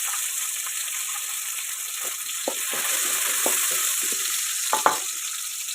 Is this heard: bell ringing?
no